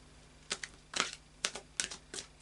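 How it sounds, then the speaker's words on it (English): An Oracle of Angels card deck is shuffled by hand in a few quick bursts of soft riffling snaps and clicks, close but quiet. "Just do another couple of shuffles."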